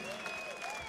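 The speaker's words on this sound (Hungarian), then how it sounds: "Egy nagy tapsot kérnék." Concert audience at a blues show in a Budapest hall clapping, faint and diffuse, with a tonal whistle-like sound gliding above it.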